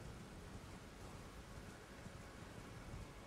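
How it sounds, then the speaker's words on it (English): Rain falling in Elden Ring, a steady, dense hiss of broadband noise with no breaks, fairly faint and uniform, without any voices. "It's raining."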